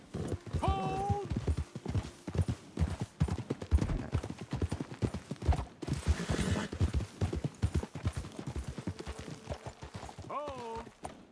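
Horse hooves clip-clopping steadily on a trail in the video game Red Dead Redemption 2, a dense, continuous rhythm of several horses close by, with brief character voices at the start and end.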